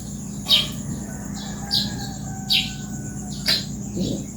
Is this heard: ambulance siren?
no